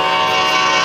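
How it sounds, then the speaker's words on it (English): An F40PH diesel locomotive sounds its horn at a railroad crossing, a loud, steady, sustained chord held for the whole moment with no break and no voices. "So here we have a horn show at the railroad crossing."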